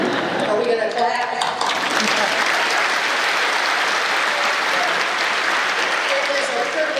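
An audience at an eighth grade bridging ceremony breaks into loud, dense clapping that stays full and continuous, with some crowd murmur and voices mixed in beneath it.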